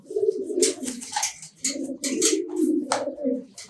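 Pigeons coo steadily in low, throaty rolling bursts, several overlapping, with faint higher chirps and rustling around them at a racer and Giribaz pigeon loft; no talking.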